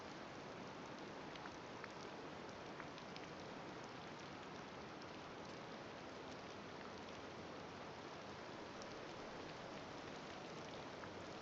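Rain falls in Disney Dreamlight Valley as a constant soft hiss of drops, faint and even throughout, with no voices.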